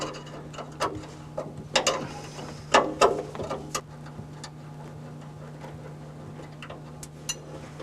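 Wrench removing a 7/16 bolt from the top of the handbrake lever on a Rolls-Royce Silver Cloud or Bentley S: irregular ratcheting clicks and metallic taps, close by, over a steady low hum, fading to sparse ticks.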